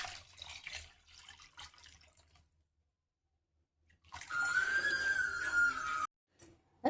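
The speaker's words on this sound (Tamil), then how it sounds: "ஒரு எலுமிச்சம்பழம் அளவுக்கு புளி கரைச்சி வச்சிருக்கேன். அதை நம்ம இப்போ இதில் ஆட் பண்ண போகிறோம்." Tamarind water poured into a simmering Madurai-style fish curry, a short steady splashing stream of liquid after a quiet pause, close and fairly loud, ending abruptly.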